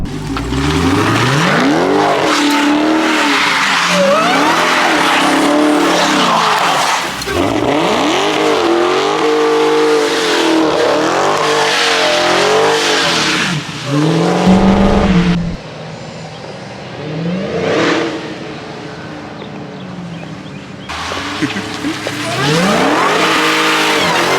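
Dodge Hellcat on a wet, flooded road, engine roaring and revving hard in long loud bursts as the tires spin and squeal without grip, with brief pauses between pulls.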